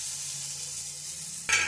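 Onion sautéing with ginger garlic paste in a pan while making egg sukka produces a soft, constant sizzle that swells into a louder hiss near the end, with no talk.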